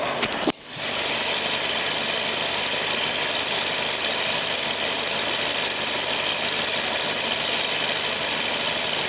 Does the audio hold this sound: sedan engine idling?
yes